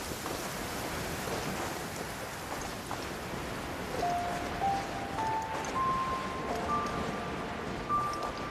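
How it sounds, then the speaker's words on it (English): Steady rain from a downpour in a video game hisses evenly throughout, with a few rising tonal game chimes layered over the constant wash of falling water. "Taking a stroll in the middle of a downpour certainly rouses the spirit."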